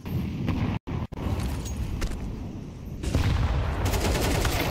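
Grenade popping in a Counter-Strike match, heard as a dense burst of gunfire-like cracks and booms from the game's combat, loud and continuous with a brief dropout before intensifying near the end.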